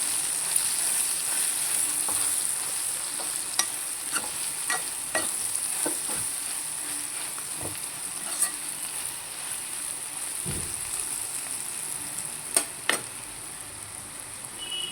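Cluster beans fry in a pan with turmeric, chili powder and salt under a steady, soft sizzle, broken by occasional sharp scrapes and clacks of a spoon stirring against the pan.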